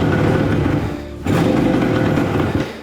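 An engine that may have plugged exhaust pipes runs loud and close with a buzzing, rattly drone, dipping briefly and then surging back up to steady running.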